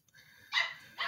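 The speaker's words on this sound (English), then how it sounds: "You're gonna hear mom's dog." A dog barks twice close by, two sharp bright yips about half a second apart over an otherwise quiet room.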